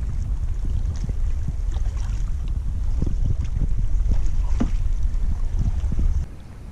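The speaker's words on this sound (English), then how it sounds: "We're away for a paddle now." Paddling a boat on Loch Lomond on a fine day, with steady water wash and lapping against the hull under constant wind noise buffeting the microphone, no voices.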